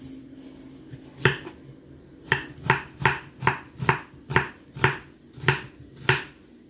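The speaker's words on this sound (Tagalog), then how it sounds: "So, hiwain na natin ang ating sibuyas." Knife chopping through a peeled onion on a board, about ten crisp, evenly spaced chops close by, alone with no talking.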